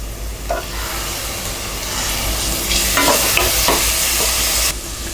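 Tomatoes sautéing with fried onions in hot oil for a prawn pulao, a continuous close sizzle with a low hum beneath and a few stirring knocks, rising slightly midway before easing off.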